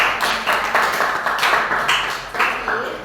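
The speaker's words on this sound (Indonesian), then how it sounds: "tepuk tangan untuk kita" A classroom of students claps together, a series of loud rhythmic bursts of clapping repeating about every half second, close and without talk.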